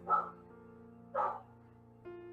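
Two sharp barks from a dog in a Hero Factory animation, about a second apart, fairly close and moderately loud against a quiet background with a faint steady hum, followed by a brief tonal sound at the end.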